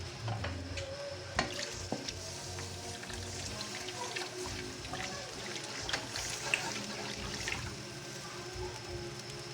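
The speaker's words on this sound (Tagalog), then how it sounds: "Ating pong haluin hanggat ito'y kumulo" A coconut-milk stew for Bicol dinuguan simmers in a pot while a spoon stirs it, giving soft scraping and gentle bubbling sizzle with a few louder clinks, close and steady throughout.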